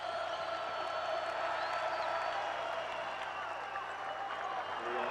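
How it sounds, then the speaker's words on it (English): A packed college basketball crowd roars at Hilton Coliseum during a 2005 Iowa State vs Missouri NCAA game, a steady dense wall of cheering and applause with a commentator talking over it. "This crowd on its feet here at Hilton."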